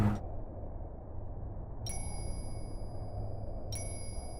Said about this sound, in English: Oh, it's the bell.